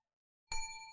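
A single bright chime from a Supermarket Simulator game alert, ringing out cleanly after a moment of silence and fading slowly with sustained tonal overtones.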